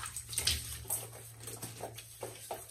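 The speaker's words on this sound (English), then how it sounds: "I keep a little bowl in here with hot water, and that's what I rinse the brush off with, or the razor off with." Water splashes and drips as a shaving brush or safety razor is rinsed in a small bowl of hot water at a sink, a few close, soft sloshes and trickles in quick succession.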